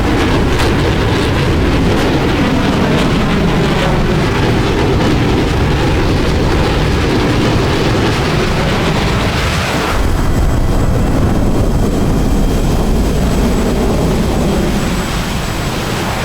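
F/A-18 Hornet jets dogfighting in the DCS flight simulator, a loud continuous jet engine roar that rumbles heavily, then shifts abruptly to a thinner, steadier whine partway through.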